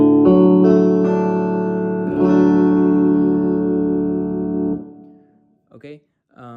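An electric guitar in open D tuning plays a song, with a few ringing strummed chords that sustain and fade, followed by a brief bit of speech at the end.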